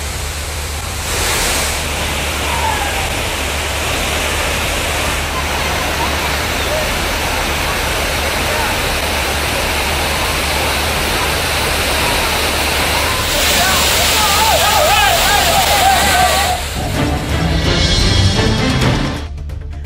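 Water gushing down Chinnasuruli waterfall in Theni district, swollen by continuous rain, gives a loud, steady broadband roar that holds throughout, brighter and harsher toward the end.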